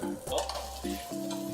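Food frying in a pan at home, a steady crackling sizzle with stirring scrapes, moderately close and continuous with no talk.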